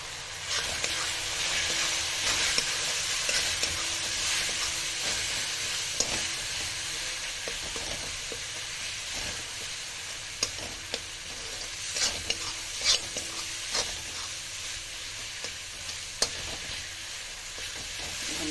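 Mutton masala with turmeric frying in a pan, a loud continuous sizzle and hiss with frequent scraping stir strokes and utensil knocks throughout, no talk.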